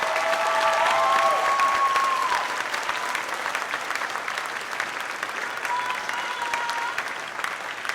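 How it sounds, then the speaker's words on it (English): Steady, dense applause from an audience at a school moving-up ceremony for sixth graders, filling all eight seconds with a loud, continuous wash of clapping from many hands. "Clap your hands once again"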